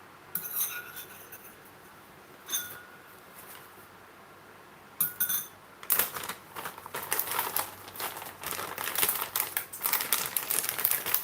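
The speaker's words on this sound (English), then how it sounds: "I'm going to add luncheon meat and broccoli, which I've also cut into small pieces, and to mix it in with the rest of the chips" Potato chips being mixed with cut luncheon meat and broccoli in a bowl for tamagoyaki, a few scattered crinkles first, then dense, loud crunchy rustling and clinking from about six seconds onward.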